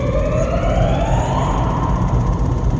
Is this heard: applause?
no